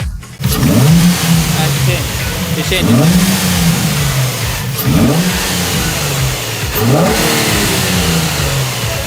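A Nissan 350Z engine with the intake valve closed revs repeatedly, four rising blips about every two seconds over a steady loud drone, close by, with an intake suction rush.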